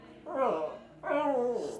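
A puppy gives two drawn-out, close whimpering yelps that rise and fall, the second longer and ending in a short bark-like catch.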